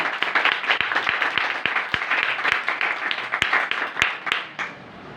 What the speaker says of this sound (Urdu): یسوع کی ذات کے لیے ایک بار زوردار تالی